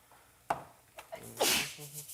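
A single sharp sneeze bursts out fairly close, with a smaller catch of breath before it and quiet room sounds around it.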